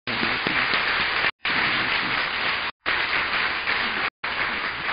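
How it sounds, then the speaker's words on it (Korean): A church congregation claps in thanks to parents at a Parents' Day Sunday service in Suwon, with broad sustained applause broken by several brief gaps, fairly loud and steady. "우리 박수로 감사를 한번 표했으면 좋겠습니다"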